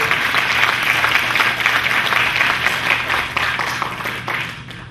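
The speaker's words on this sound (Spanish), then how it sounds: "a quien recibimos con fuertes aplausos" Steady applause from an audience at a social sciences lecture series welcoming a speaker, dense and fairly loud throughout, easing slightly toward the end.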